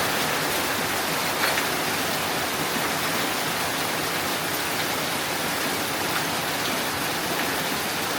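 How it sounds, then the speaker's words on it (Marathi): Heavy rain pounds on metal roof sheets in a dense, unbroken hiss and patter that stays loud and even throughout, with no voices over it. "वर आता पत्रे घातलेले आहेत, त्यामुळे पावसाचा आवाज जास्ती आहे माझ्यापेक्षा"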